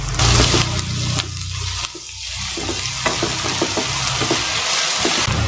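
Two chopped onions drop into a hot pan for Kerala mutton varattu and sizzle loudly, a close, steady hiss of frying with a brief dip, then continuing crackle.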